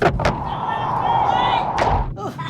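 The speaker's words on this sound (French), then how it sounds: "Je vais lui ouvrir la porte." A door being opened, with a thud and knock at the start and another bump near the end around a sustained tonal hum, close and fairly loud.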